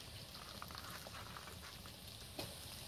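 Sliced onion sizzles in hot oil in a wok, a quiet, steady crackle with small pops and one sharper spatter near the end, no voices.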